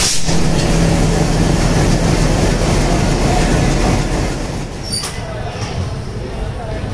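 Train pulling out of Secunderabad Junction, heard from inside the carriage as a steady, loud rumble that eases slightly near the end, with faint voices underneath.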